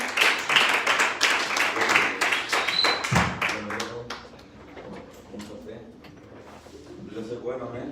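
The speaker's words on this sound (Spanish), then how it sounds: "dale un fuerte aplauso al Señor." A church congregation at a Spanish-language youth service claps loudly in a fast, dense burst that fades after a few seconds, with a voice speaking over it and continuing afterwards.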